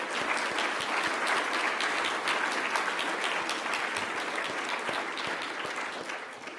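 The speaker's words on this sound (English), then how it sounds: "Let's all give him a round of applause." An audience at a talk on China applauds the speaker with sustained, dense clapping that stays even and then eases slightly toward the end.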